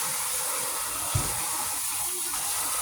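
Raw chicken is rinsed under running tap water in a sink, giving a steady, close hiss of flowing water with one brief thump partway through.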